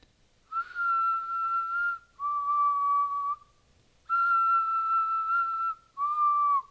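Someone whistles a simple tune in long sustained notes, clear and close, with short pauses between phrases.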